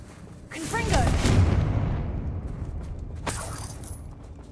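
A Confringo blasting spell goes off in a video game: a deep, rumbling explosion swells up under a brief voice, then fades slowly, and a second sharp crack follows shortly after.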